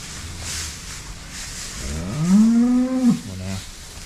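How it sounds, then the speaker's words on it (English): Cows, including heifers and Jersey cows on a calving farm, moo once in a long, loud, rising bellow near the middle, over a steady low background hum. "The cows are out."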